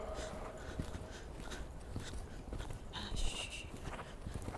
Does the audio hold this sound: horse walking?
yes